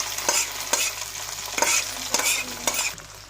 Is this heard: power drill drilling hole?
no